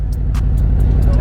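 A 2024 25th-anniversary Harley-Davidson CVO motorcycle engine runs with a loud, deep, pulsing low rumble, close and continuous, with a few faint higher ticks over it.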